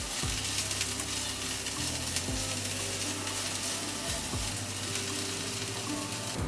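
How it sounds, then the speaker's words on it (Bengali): Chopped onion and green chilli fry in hot oil with a steady, close sizzle, while a spoon stirs and scrapes the pan in repeated strokes. "পেঁয়াজ আর কাঁচা লঙ্কা সামান্য একটু ভেজে নেব।"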